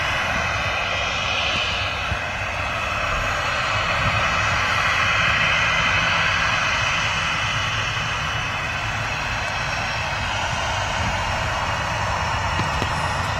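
An airliner at Manchester Airport retracting its reverse thrusters as it turns off the runway onto the exit: a loud, steady, broad engine roar that holds without a break throughout.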